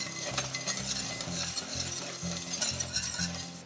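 A whisk works through a chocolate pudding mixture in a pot, a steady close scraping and swishing with a regular back-and-forth rhythm that never lets up.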